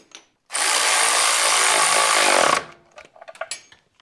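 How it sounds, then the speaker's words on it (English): A power tool tightening a nut on a 1971 Cadillac Coupe DeVille, one loud continuous two-second whir, then a few light clicks and clinks of tools nearby. "I'm going to go ahead and tighten that down."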